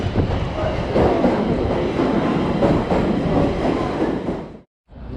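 A metro train pulls into an underground station in Stockholm, a loud rolling rumble with rail clatter that fills the space before cutting off abruptly.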